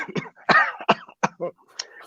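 A person coughs in a series of harsh bursts, about six short hacks with a brief throat-clearing rasp near the end, close and fairly loud.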